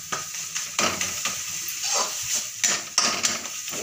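Aloo gobhi curry is pressed with a metal ladle while it fries over a high flame, giving a run of close, irregular scraping and stirring clicks over a soft, steady sizzle.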